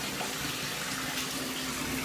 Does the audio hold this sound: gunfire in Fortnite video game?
no